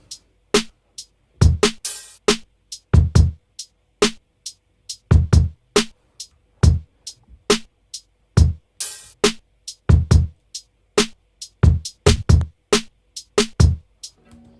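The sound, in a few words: full drum pattern of a beat made in FL Studio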